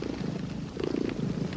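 A pet cat purrs close up in a soft, steady rumbling rhythm, low and continuous with no voices.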